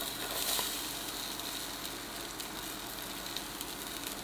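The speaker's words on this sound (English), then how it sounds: "The onions will cook with the thyme until they become translucent, about 6 minutes." Onions fry with thyme in a pan for a roast garlic soup, a steady soft sizzle holding evenly throughout with occasional small crackles and no talk.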